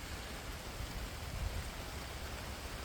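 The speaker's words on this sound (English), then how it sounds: "we're getting downpour" Heavy rain pours down steadily outdoors during roadside repair work on a 1984 Dodge Omni GLH, a dense, even hiss of downpour with a low rumble, continuous and fairly faint, with no voices.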